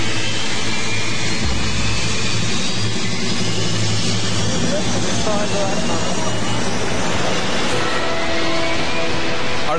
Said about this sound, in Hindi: जेट इंजन्स फेंस से सिर्फ 200 फुट की दूरी पर स्टार्ट होते हैं।